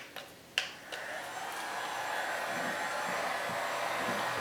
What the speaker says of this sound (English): It's a pretty quiet one. It's not going to be like a regular heat gun.